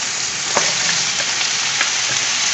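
Chunks of sausage sizzle steadily in their own rendered fat in a breakfast pan, a dense continuous hiss broken by a few sharp pops and spatters, close and fairly loud with no talking.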